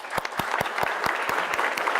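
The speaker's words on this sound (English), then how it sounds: "let's have a huge round of applause again for Prashant." An audience applauds for a guest named Prashant, with steady, evenly spaced claps standing out above a dense background of clapping throughout the short stretch.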